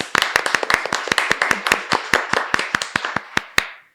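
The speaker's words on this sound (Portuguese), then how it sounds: "uma salva de palmas para a equipe" A small group claps for a production team, a few pairs of hands making sharp, distinct slaps in a loose, uneven rhythm that thins out and stops after a few seconds.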